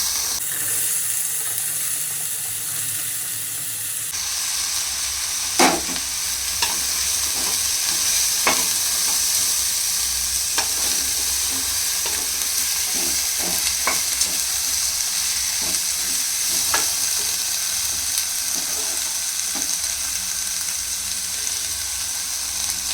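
Beans, peas, carrot and potato fry in a pan from AMC Cookware, a steady loud sizzle that jumps up as the vegetables go in, with scattered spoon clacks and scrapes throughout.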